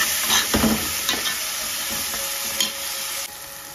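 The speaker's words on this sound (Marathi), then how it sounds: "सगळं जेवढं पण आपण कापलेलं तेवढं घालूया आणि व्यवस्थित मिक्स करून घेऊया." Onion and tomato frying in a pan for Malwani clam curry, with a steady broadband sizzle and a few sharp scraping stirs of a spoon against the pan near the start, then continuous frying hiss.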